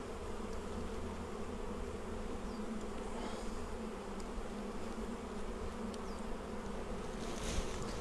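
Honey bees buzz during a pre-spring hive inspection, a soft, steady, dense hum of many insects close by, with occasional faint individual flybys and no talk.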